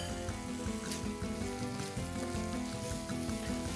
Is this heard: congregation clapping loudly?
no